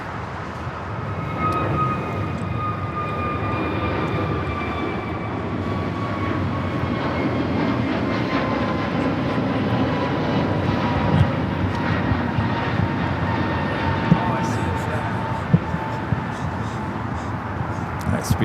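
A British Airways airliner taxis toward the north-side gates at LAX, its engines giving a steady mid-level roar with faint whining tones drifting slowly downward, while people talk nearby over it.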